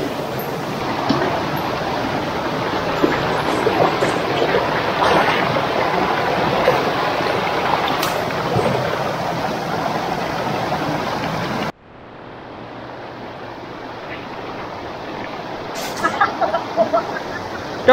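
River current flowing near Arapay Falls: a steady, broad rushing of water that drops to a softer level partway through, with faint sounds on top.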